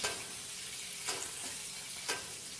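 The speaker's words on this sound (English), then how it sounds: "you want to add your herbs and garlic, and you want to baste your rack of lamb" Rack of lamb basting in hot butter and lamb fat with herbs and garlic gives a steady close sizzle, with two brief spoon scrapes against the pan.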